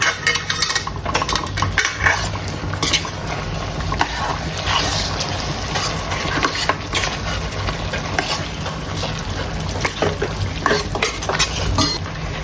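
Mutton pieces for a spicy black mutton curry stirred and mixed in a pot, with steady close scraping and clattering of a spoon against metal over a continuous sizzle, no talk.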